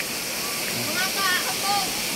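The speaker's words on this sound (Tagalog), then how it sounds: "Ayan yung busay natin, oh." Steady rushing roar of the Sibaguan waterfall, close and continuous, with faint chirps or voices over the top.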